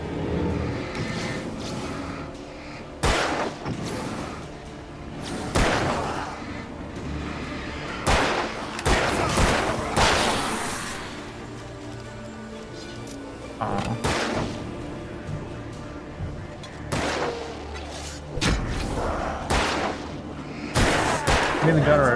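Repeated loud gunshots ring out in the Alan Wake video game, sharp bursts scattered irregularly through a tense stretch with voices talking over the fire.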